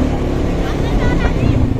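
A motorbike carrying riders through Holi celebrations near Godawari Park gives a steady, loud engine and wind drone, with voices talking over it throughout.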